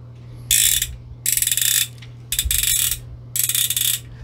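A plastic Diana Lomography 120 medium-format camera has its film wound, giving four short bursts of rapid ratcheting clicks separated by brief pauses, close and crisp over a low background hum.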